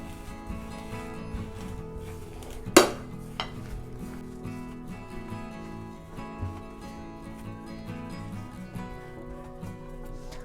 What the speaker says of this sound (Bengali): এরপর এখানে গুঁড়ো মশলাগুলো দিয়ে দিব, দিয়ে খুব ভালোভাবে মিশিয়ে নিব।